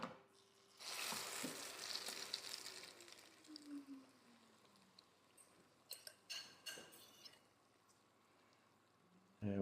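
Frittata mixture poured into an oiled pan on the stove, giving a bright, hissing sizzle that swells at first and then settles into a steady low fry, with a few clinks and a soft voice.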